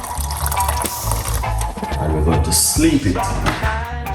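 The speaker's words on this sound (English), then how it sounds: "we are going to pour some hot water" Hot water is poured for a turmeric and rosemary anti-inflammatory drink, giving a continuous close splashing, trickling pour while someone talks over it.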